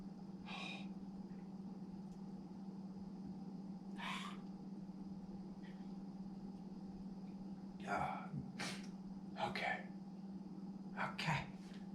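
Repeated sneezes from a person just waking up, several short bursts spread across the stretch, with a steady low hum underneath and no talking.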